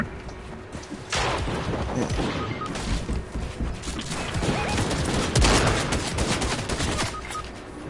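Rapid automatic shotgun fire in Fortnite, bursts of loud, sharp blasts coming in quick irregular volleys across several seconds, with a few heavier impacts and occasional game sounds in between.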